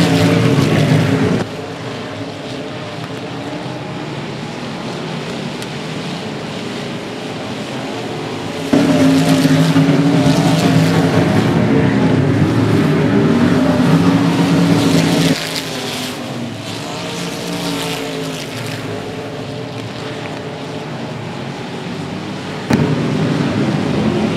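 Race cars lapping the oval at 105 Speedway during a regular race program, a steady loud engine drone that swells and fades as the field passes, with no talk over it.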